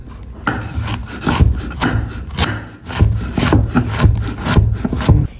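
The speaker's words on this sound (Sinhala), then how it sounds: "මම ගොඩක් හීනියට මේක කපනවා" A knife slices raw plantain very thinly on a board, giving steady rasping, scraping cuts in a quick repeated rhythm, close and fairly loud with no talk.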